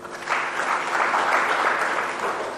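Audience at an AfCFTA business forum in Dar es Salaam breaks into sustained, dense applause from a crowd, clapping steadily at even loudness for a couple of seconds.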